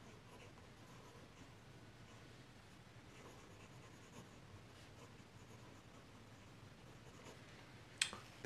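Close, faint scratching of an extra-fine nib on a Pelikan M800 fountain pen gliding over paper, continuous soft strokes with brief pauses and a crisp click near the end.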